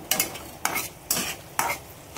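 Garlic stirred into onions frying in a pan for a moong bhaji, with four distinct scraping stirs at an even rhythm over a soft sizzle.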